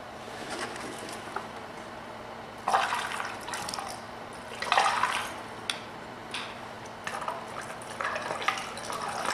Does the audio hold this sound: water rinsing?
yes